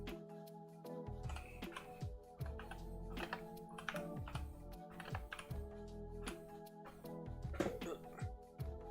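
Typing on a computer keyboard, a busy stream of close clicks and clacks in irregular bursts, fairly quiet, over a faint background hum.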